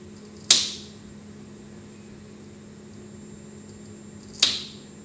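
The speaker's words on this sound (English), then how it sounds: "you can hear the individual yarns breaking now as we rip along the fabric" Two sharp, bright snaps several seconds apart as yarns break while fabric is torn in a tear strength tester, set over a steady low machine hum.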